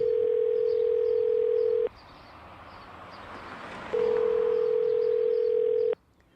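An unanswered emergency 911 call to Cincinnati rings back as a steady electronic tone, about two seconds on, then a long pause, then two seconds again, over faint background noise.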